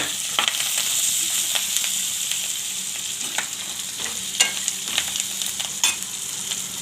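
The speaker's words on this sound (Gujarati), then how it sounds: "હવે આપણે બધું મિક્સ કરી લઈશું" Raw banana poha ingredients being stirred together with lemon in a pan make a steady close frying sizzle, broken by repeated scraping stirs of a spoon.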